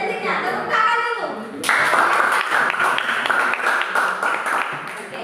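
Students clap their hands in an Indonesian classroom during a lesson. After a teacher's voice, a burst of steady group clapping starts and continues loudly to the end.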